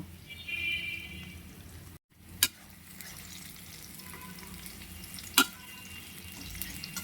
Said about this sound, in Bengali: পেঁয়াজটাকে আমি হালকা লাল লাল করে ভেজে নিব।